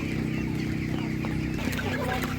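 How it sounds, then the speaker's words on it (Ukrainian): A broiler hen clucks in short repeated calls at an animal market, close and steady over a background of crowd noise. "Дуже гарна курка породна"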